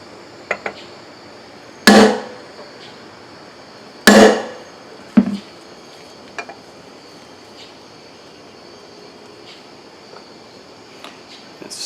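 A hammer drives a large drift into a Borg Warner 1305/1339 Quadratrac transfer case. Two hard, ringing metallic blows sound close by, followed by a lighter tap, against a quiet background.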